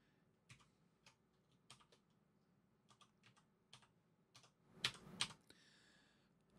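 Password being typed on a computer keyboard while setting up an Xbox One child account: about a dozen light, crisp key taps at an uneven pace, close and quiet, ending with a couple of louder clacks.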